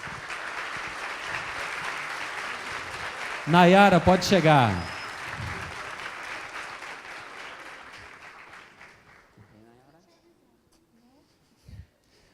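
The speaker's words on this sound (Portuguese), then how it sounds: "eu gostaria que vocês recebessem, com a salva de palmas" Audience applause at a live event, steady clapping that fades slowly over several seconds under a brief loud spoken call, then dies out to near silence.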